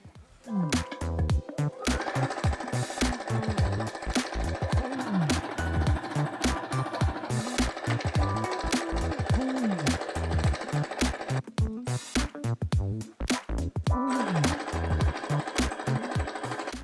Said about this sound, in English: my machine is not gonna like this one, guys. This is a really hard fabric